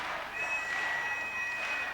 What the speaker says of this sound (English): The crowd are trying to get this man moving.